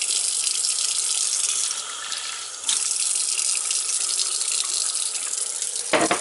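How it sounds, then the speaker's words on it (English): Cold water gushes from a tap into containers, a loud, steady hiss of filling that briefly drops in level and ends with a short clunk; no one speaks. "Fill these with cold water."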